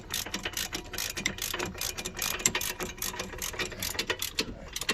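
Ratchet clicking in quick repeated bursts while tightening bolts during a front wheel bearing and brake replacement on a 2008 Cadillac SRX, close and fairly loud with no talk.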